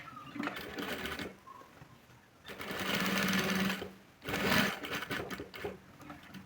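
A sewing machine stitches a bag in two or three steady runs of rapid, even whirring. The runs are fairly quiet and separated by short pauses.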